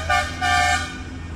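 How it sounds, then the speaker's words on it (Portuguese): Two short car horn honks in quick succession, the second slightly longer, close by over a low background hum of traffic. "Olha lá a buzina lá"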